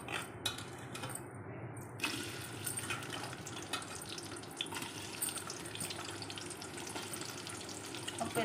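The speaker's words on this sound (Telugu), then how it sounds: "ఒక పెద్ద ఉల్లిపాయ వేసుకొని ఫ్రై చేసుకోవాలండి." A large onion fries in a pan for Hyderabadi mutton marag, giving a steady, fairly quiet hiss of sizzling oil that continues unbroken with no voices.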